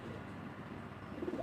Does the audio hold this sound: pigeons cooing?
yes